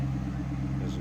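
A 2004 Cadillac XLR with no exhaust modifications idles, heard from behind the car as a steady, even low hum with no revving during a brief moment.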